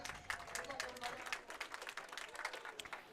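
Applause for competitors at a youth bowling finals event: quiet, somewhat distant scattered clapping, many hands patting in an uneven flutter for a few seconds.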